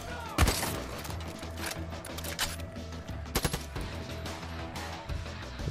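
Gunfire aimed at the player in the video game Far Cry 5: sharp shots and short bursts crack over a droning game soundtrack, with a loud close report early on and a quick cluster of shots later.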